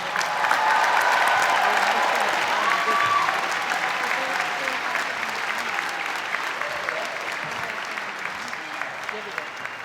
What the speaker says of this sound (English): join me in another round of applause for all of our graduates